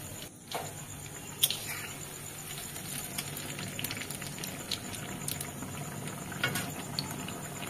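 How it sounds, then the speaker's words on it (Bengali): Malpua made with palm fruit pulp fry in a pan in the last stage of cooking, giving a soft, steady sizzle with scattered sharp pops and crackles. "মোটামুটি আমার সব ভাজা হয়ে এসছে, শেষ পর্যায়ে চলছে এখন।"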